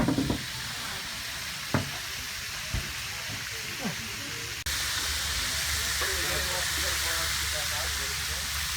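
Chunks of bacon sizzle in a cast iron pan at an outdoor shore dinner, a steady broadband frying hiss with a few pops, under intermittent talk.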